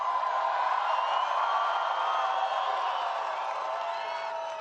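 A large rally crowd in Missoula, Montana cheering and roaring continuously, a dense wall of voices with whoops and yells that stays loud and steady throughout, fading slightly toward the end.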